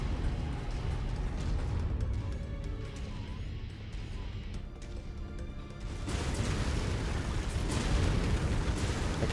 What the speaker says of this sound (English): I can hear just explosions behind me.